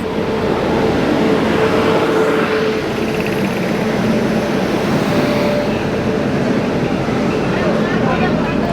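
A WAP-7 electric locomotive rolls in on an Indian railway line, a loud, continuous rumble and roar that stays strong from start to finish while someone talks over it.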